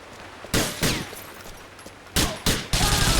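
Gunfire in Grand Theft Auto IV: sharp, loud bursts of shots in two clusters, a pair of blasts followed after a pause by several more rapid, close reports.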